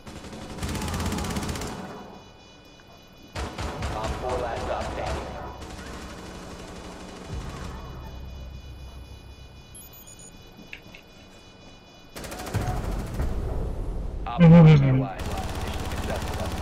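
Bursts of SMG fire in Rainbow Six Siege ring out in several loud clusters separated by pauses, with a heavy impact late on and a player talking through parts of it.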